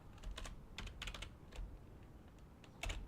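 Rapid bursts of typing on a computer keyboard during a Total War multiplayer tournament, clattering in uneven clusters of keystrokes over a low background hum, close and moderately quiet.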